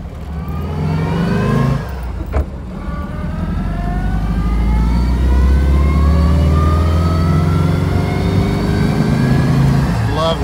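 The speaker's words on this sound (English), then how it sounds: "we're in his 1950 Hebmuller, and he's gonna go ahead and take us for a ride here" The engine of a 1950 Hebmuller car revs and pulls steadily through a ride, loud and close, climbing through rising gear pitches with a brief dip between shifts. Voices talk over the engine.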